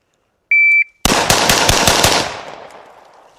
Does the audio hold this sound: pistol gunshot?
yes